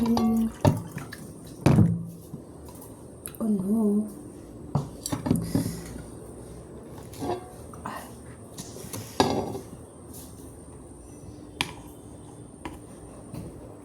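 A spoon is washed under running tap water in a home kitchen, giving intermittent splashes, drips and metallic clinks at close range, with scattered clatter of utensils.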